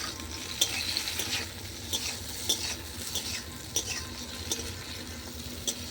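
Brinjal frying in a pan over a clay stove, a steady sizzle under repeated clinks and scrapes of a spatula against the pan at an uneven rhythm, close and moderately loud, with no talking.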